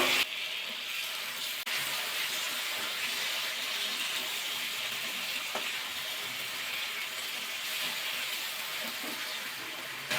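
Catla fish cooks in well-fried spiced oil for a Bengali fish rezala, giving a steady, close hiss of sizzling that runs throughout with a few faint clinks.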